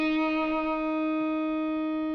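An instrument played through a fuzz effect holds a single buzzy, harmonically rich distorted note, steady and close.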